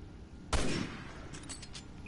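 A single loud, sharp gunshot from Resident Evil 6 cracks out close by, its echo trailing off, followed by a few fainter clicks and shots.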